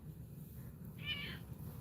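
A single short cat meow rises briefly and clearly over a low steady rumble, as if heard inside or beside a car, with no talking.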